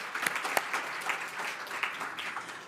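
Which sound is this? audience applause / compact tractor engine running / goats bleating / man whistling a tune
audience applause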